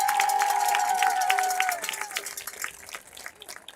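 An audience claps and cheers for a Hall of Fame inductee at a school homecoming football event, a burst of clapping over an opening tone that fades toward the end.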